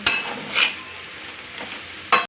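Coconut burfi mixture being stirred in a kadai, with a soft continuous scraping and gentle sizzle and a couple of louder spoon strokes against the pan, close and without talk.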